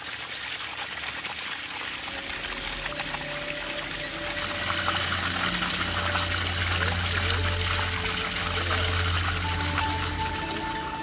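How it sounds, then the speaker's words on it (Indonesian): Spring water flows steadily in Boonpring village, a loud, close, continuous pouring and trickling rush with faint tonal sounds underneath. "Limpahan air mengalir sepanjang tahun membasahi tiap jengkal tanah desa"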